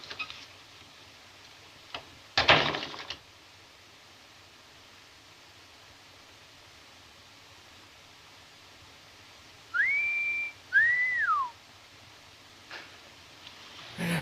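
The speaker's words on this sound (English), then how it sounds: "You know how to whistle, don't you" Human whistling, two short rising and falling whistled notes in quick succession, clear and close against a quiet background with a few faint knocks and a rustle earlier.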